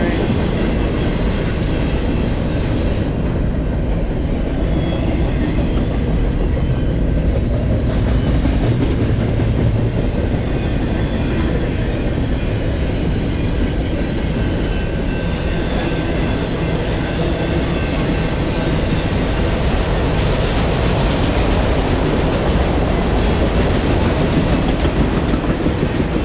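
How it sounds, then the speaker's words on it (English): BNSF double-stack freight train with auto racks at the rear rolling fast eastbound, a loud, unbroken roar of rumbling wheels and rattling cars passing close by for the whole stretch. "We got some auto racks at the rear of this"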